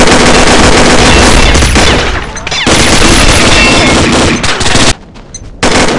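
M4A1 assault rifle fire in the shooter game Combat Arms: loud, sustained bursts of rapid automatic shots fill most of the stretch, broken by a brief pause midway and a short near-silent gap near the end before firing resumes.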